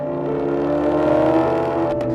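A Maserati naturally aspirated V8 engine, the 4.2-liter unit later enlarged to 4.7 liters, holds a loud, sustained rev with a rich, steady drone before easing off.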